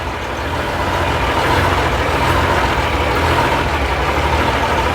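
A 1958 Leyland PD2 double-decker bus pulls along in first gear, its heavy diesel engine droning steadily and loudly from inside the cab, with no talk.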